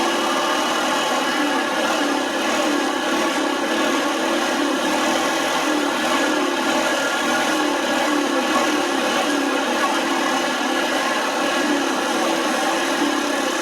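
A quad bike ATV engine runs outdoors in Gangwon Province, South Korea, producing a loud, steady, unbroken mid-pitched drone close by, with no talking.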